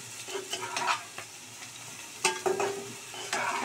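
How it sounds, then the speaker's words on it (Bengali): Flat beans fry with potato, onion and chili in generous oil, a quiet sizzle broken by several scraping stirs of a spatula against the pan. "আলু পেঁয়াজ দিয়ে ভালো করে লঙ্কা দিয়ে ভাজা করছি।"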